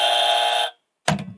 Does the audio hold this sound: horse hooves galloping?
no